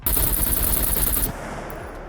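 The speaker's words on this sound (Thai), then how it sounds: "ตอนนี้เราจะมาทดสอบการยิงทะลุกำแพงบ้านกันบ้างครับ" Rapid automatic gunfire in the SCUM video game, shot at a house wall to test bullet penetration; a loud, continuous burst of fire lasts just over a second, then cuts off and leaves a lingering tail.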